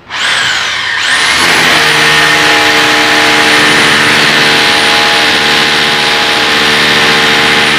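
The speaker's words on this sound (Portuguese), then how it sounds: "Fazer um furo e colocar a bucha com pitão." A power drill bores a hole for a wall plug beside a drywall ceiling panel, a loud steady whine rising in pitch as it spins up, then holding one strong continuous tone to the end.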